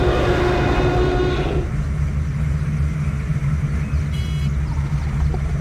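In the video game Zoo Tycoon 2, a jeep tour vehicle drives along with a steady, loud engine rumble, joined by a brief tonal whine at the start and a short rattle later, with no talking.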